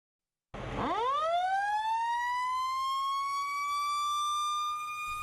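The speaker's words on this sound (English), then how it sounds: "That siren means it's go time for the Orange Volunteer Fire Company." A volunteer fire company's siren winds up sharply from silence and then holds a loud, steady wail, heard alone without any talk.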